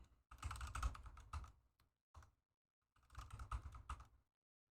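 A password is typed on a computer keyboard at close range: two quick bursts of rapid key clicks, with a short pause and a few stray taps between them.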